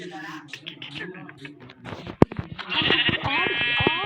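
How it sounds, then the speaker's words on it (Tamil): Sheep bleat in the Minecraft video game, several sharp calls in quick succession rising in the second half, with people talking over and between them. "ஐயோ, ஆடு ஆடு ஆடு ஆடு"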